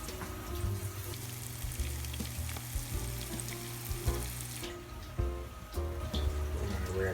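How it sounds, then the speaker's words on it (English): Seitan cutlets fry in a pan with a dense, steady sizzle and crackle like light rain, continuous throughout with occasional faint clinks, close and even in level. "Now we're only going to fry half of these at a time."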